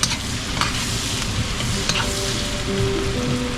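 Garlic sizzles steadily in hot butter in a pan, a dense, continuous crackle with occasional stirring scrapes and no talking.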